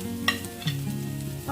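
Two chilies frying in hot oil in a pan over reduced flame, stirred with a spoon: a steady close sizzle with a few sharp scraping stirs near the start and middle.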